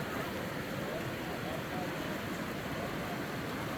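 The Nenana River in Denali National Park roars as a dense, steady broadband rush of fast-flowing water, loud and continuous throughout, with no clear voices above it.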